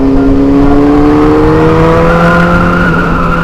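A big motorbike revs hard as it passes close by, the engine note climbing in a loud, steady rising whine above busy road traffic.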